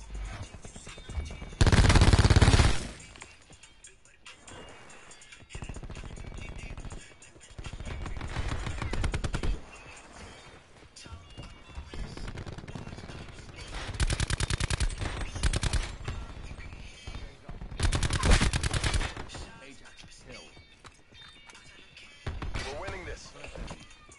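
Spitfire gun fire in a first-person shooter played on PS4: several loud bursts of rapid automatic fire separated by pauses, up close.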